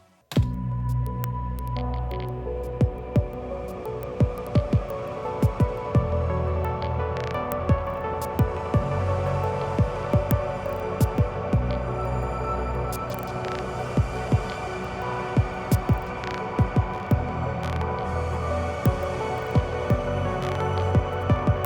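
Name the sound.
synth with ping-pong delay into reverb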